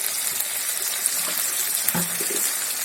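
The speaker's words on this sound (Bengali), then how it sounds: "একটু জল দিয়ে দিয়েছি" Water poured into a pan of chicken and cauliflower curry with cashew, garlic, poppy seed and ginger pastes, a short, close, steady splashing gush with a small knock partway through.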